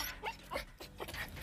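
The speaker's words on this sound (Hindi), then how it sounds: "छोटा कुत्ता है यहाँ पे," A small dog whimpers and yips in short, repeated high-pitched bursts, close by and fairly loud, with no talking over it.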